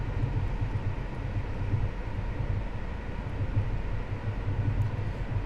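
Simulated train passing in Train Sim World 3, a Class 700/0 electric unit on the Brighton Main Line with a sound mod: a steady, loud, broadband rumble and rolling roar that holds evenly throughout, with no voices.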